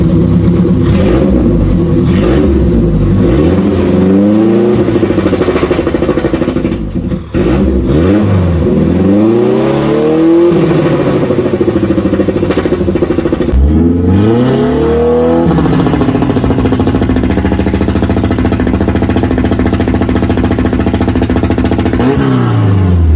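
A lowered car with a side-exit exhaust revs hard and loud, close up, in repeated rising and falling bursts separated by short dips, with no talking.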